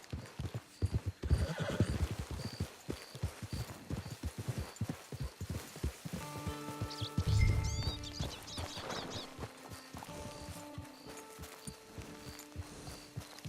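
A horse in the Red Dead Online video game clops along with a rapid, steady run of hoofbeats, then gives a loud, close whinny partway through while the hooves keep going, with faint game music underneath.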